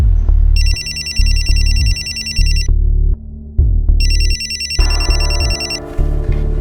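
A telephone ringtone for an incoming call rings loud and close in two long electronic bursts separated by a short pause, over a low background rumble.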